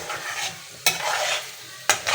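Aloe vera halwa frying in ghee gives a loud, close, bubbling sizzle, interrupted twice by sharp scraping strokes of a spoon across the pan.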